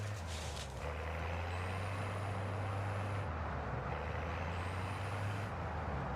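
An armored car from Warzone 2 rumbles steadily with a deep engine drone throughout, joined by hissing and a couple of high whining tones, with no voices.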